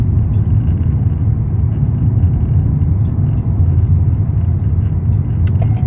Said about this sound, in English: Got a car coming up behind me now.